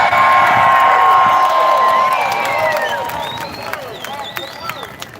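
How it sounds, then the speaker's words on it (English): A rally crowd cheers and claps in a loud burst, with whistles and shouts rising over the applause before it gradually fades. "Let's give them a round of applause because they closed off the street for us."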